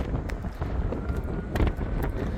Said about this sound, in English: It's windy as hell up here.